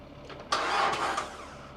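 A 1963 Corvette convertible, long abandoned, cranks as it tries to start, a short burst of starter and engine noise catching briefly at close range without fully running.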